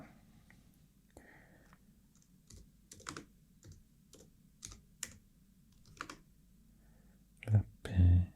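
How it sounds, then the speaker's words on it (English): Keys on a computer keyboard are tapped in short, sparse bursts of crisp clicks, close and quiet in a hushed setting. A couple of louder knocks come near the end. "Let's type that"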